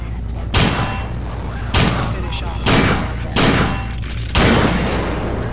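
Gunfire from System Shock 2, loud evenly spaced shots, about five heavy blasts each with a reverberant tail, over a constant low background hum.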